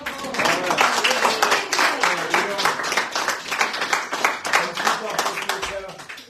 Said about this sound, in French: Et Blandine, vous pouvez l'applaudir, la Blandine.